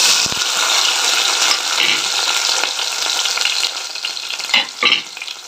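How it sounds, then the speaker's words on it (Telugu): Tomatoes fry in hot oil in a pan with a loud, continuous sizzle and occasional stirring clatter near the end, close up with no talking. "ఇప్పుడు ఏం చేస్తానంటే ఇందులోకి ఫస్ట్గా ముందు ముందు టమోటాలు వేస్తాను"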